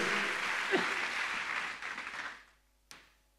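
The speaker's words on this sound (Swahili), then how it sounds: "Ungempigia Jehova makofi mengi tena." A church congregation claps together in a dense burst of applause that fades after about two and a half seconds, followed by a single sharp knock.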